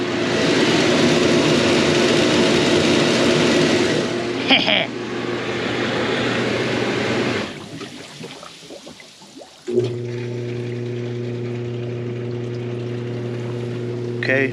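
A rewired electric pump running with a steady loud droning hum, briefly dropping and changing before settling into a strong even whir, close by.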